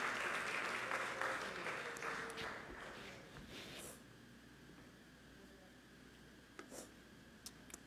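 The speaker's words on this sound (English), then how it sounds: "Let's give them a round of applause." A church congregation claps during a Sunday service, the applause filling the room at first and then thinning out and fading to a quiet room with a few scattered claps near the end.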